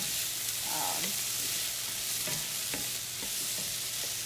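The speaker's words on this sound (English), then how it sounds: "Just gonna stir these around. Sweat out the onions." Onions sweating in a cast iron pan seasoned for at least 20 years, a loud, steady sizzle with occasional scraping knocks of a utensil stirring them around; no talk.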